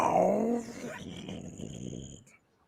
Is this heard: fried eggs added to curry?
no